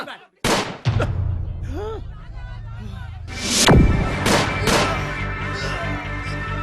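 Gunfire in a Nepali movie scene: a sharp, loud burst of shots opens, followed by further blasts and rising commotion, with a booming crack near the middle and more shots trailing off amid shouting voices.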